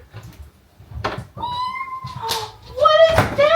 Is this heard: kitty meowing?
yes